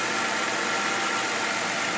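Running V6 engine of a BMW 328 Cabriolet E93, a steady broadband idle-like rumble with a continuous even hiss, close up and alone with no talk.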